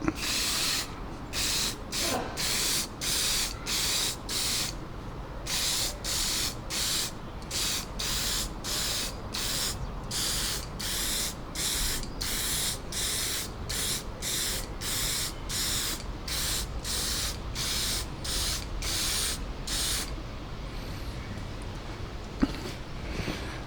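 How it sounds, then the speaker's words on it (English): Repeated bursts of aerosol spray paint on OO gauge model railway track, short hissing blasts one after another in a steady rhythm, close and loud, with no talking. "I'm just going to do the track spraying."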